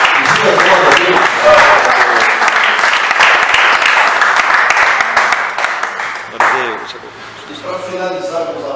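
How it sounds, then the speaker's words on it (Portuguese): A church congregation at a Baptist service in Belo Horizonte, Brazil bursts into loud, sustained applause that fills the room for several seconds, with voices mixed in, then tapers toward the end as some music comes through. "Dê um aplauso ao Senhor"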